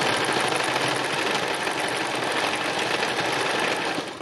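Sewing machine doing free machine embroidery, a fast, steady, close-up needle chatter running continuously without pause and with no voices.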